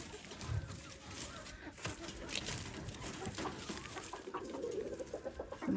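Farmyard chickens cluck and murmur nearby while being fed cantaloupe outdoors. Soft, irregular clucks rise now and then over light background rustle, with faint human voices in the mix.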